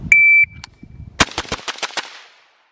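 Rifle shots at a shooting range: a beep tone, then a quick string of about six sharp, loud, close shots in a fast, even rhythm, each fading with a short echo.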